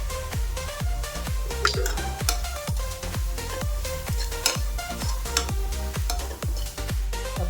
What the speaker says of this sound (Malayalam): ഇത് വഴറ്റി